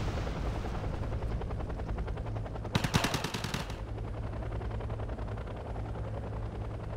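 Helicopters under anti-air fire in the real-time strategy game Wargame Red Dragon: a steady rotor and engine drone runs throughout, broken near the middle by a burst of rapid, close gunfire lasting about a second.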